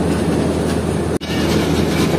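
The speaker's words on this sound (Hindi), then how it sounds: "तो ये अब हमारी ट्रेन जो है 38 डाउन बाबा फरीद एक्सप्रेस बिल्कुल मेरी प्रेडिक्शन के मुताबिक प्लेटफॉर्म नंबर 2 पर ही लग रही है रोड़ी जंक्शन रेलवे स्टेशन के।" Broadband rumble of the 38 Down Baba Fareed Express rolling into platform 2 at Rohri Junction, steady and loud, with one brief dropout near the middle.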